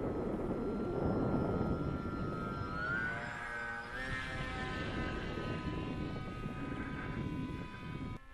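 A radio-controlled model airplane flies with its motor running, a steady whining drone with a gliding pitch shift partway through, continuous and fairly close over about eight seconds, with no talking.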